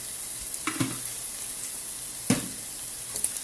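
Chicken with spices and chicken consommé frying in a pan while being stirred, a soft steady sizzle under a few scraping stirs, with one sharper clatter of the spoon partway through.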